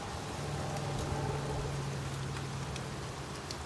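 Unusual monsoon rain falls in Los Angeles as a steady, even hiss of rain on surfaces, with a faint low hum beneath and occasional soft drip ticks, without voices.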